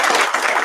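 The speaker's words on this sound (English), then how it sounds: "I request all of you to have a huge applause for" A short burst of audience applause at an international business and technology conference, dense clapping heard close and loud.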